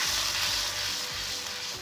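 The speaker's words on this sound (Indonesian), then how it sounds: "Bawang putih dan jahe tumis harum, masukkan air." Garlic and ginger sauté in a hot pan with a bright, steady sizzle, close and continuous with no voices.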